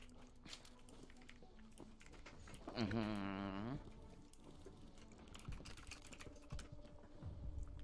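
Rapid clicks of typing on a computer keyboard during a game, with a brief loud electronic game tone in the middle and faint background noise throughout.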